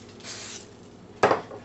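A short hiss of non-stick cooking spray goes into an unwashed pan, followed by a sharper, louder burst of spray near the end.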